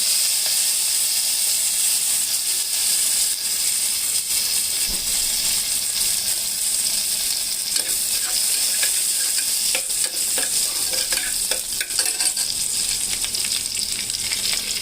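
Mustard seeds, urad dal and fenugreek sizzle in hot oil for a tempering, giving a constant bright hiss with scattered pops and crackles. The sound is close and continuous, with no talk.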